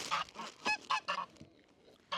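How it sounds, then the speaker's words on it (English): Geese honking on a farm, a loud close flock giving repeated nasal honks in quick succession with a brief lull before more calls. "Y'all probably can't even hear me because of these geese."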